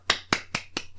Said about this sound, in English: gotta give it the golf clap